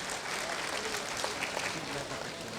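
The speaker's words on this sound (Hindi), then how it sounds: "जोरदार ताली बजा के इनका स्वागत करिए" An audience at a state-level party workers' meeting claps steadily and densely throughout, a broad wash of applause in a hall, with a voice speaking faintly beneath it.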